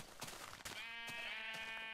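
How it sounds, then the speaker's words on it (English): Several bleats from a sheep in Minecraft, the early version of the game, come in quick succession with strong harmonic tones. The bleats sit over a steady background of game sound, and no one speaks. "There's a sheep."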